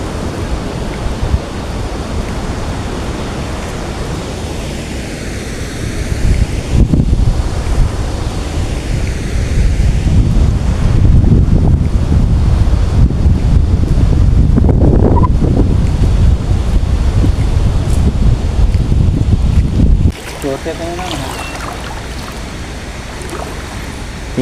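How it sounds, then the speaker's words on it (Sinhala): A large stream of water gushes from a leak at Samanala reservoir lake near Balangoda, a loud steady roar blended with heavy wind buffeting the microphone, continuous throughout and shifting abruptly near the end. "ඔයාලට පේන ඇති මේ ලොකු වතුර කඳක් මෙතනින් පිට වෙනවා."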